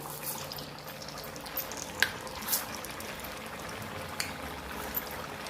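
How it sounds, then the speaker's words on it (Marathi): Rava and potato medu vada sizzle in hot oil with a soft, steady frying hiss, broken by a few faint pops and crackles. "याच पद्धतीने आपण दुसरे पण वडे तेलावर सोडून घेऊया"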